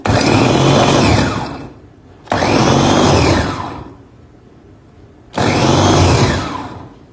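An electric vegetable chopper chops onion in three separate pulses, each a loud, close, whirring motor burst lasting about a second and a half, with near-silence between them.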